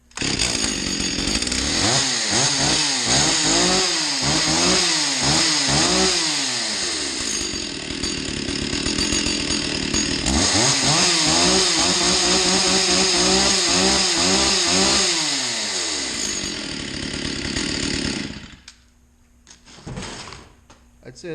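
A Stihl 036 chainsaw fitted with an aftermarket HiPA carburetor runs loud and close, revving up and down repeatedly in rising and falling bursts, then cuts out near the end as someone speaks.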